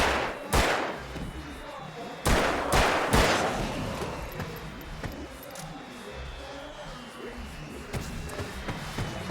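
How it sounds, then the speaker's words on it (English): Fireworks bursting during a last-stand fight in the Alan Wake video game: a few sharp, loud explosive cracks early on, then a sustained rumbling, crackling wash of noise that slowly fades. "These fireworks are my last stand."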